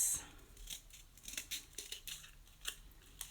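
Scissors snip through strips of white-painted cardboard in a quick, uneven series of close, crisp cuts with soft rustling between them.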